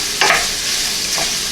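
White basmati rice and sausage being sautéed in a pan, with two bursts of stirring and scraping over a soft, steady sizzle and no voices.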